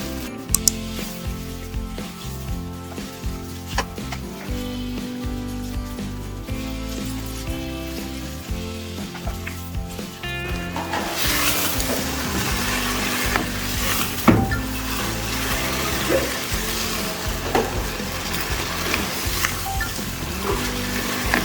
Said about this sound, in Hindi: बस अब इसको सिर्फ आपने 5 मिनट भूनना है।